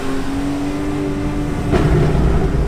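A Porsche 991.1 4S Cabriolet cruises at about 50 km/h with a steady exhaust drone, then a sharp crackling pop bursts out near the end and the engine note grows slightly louder.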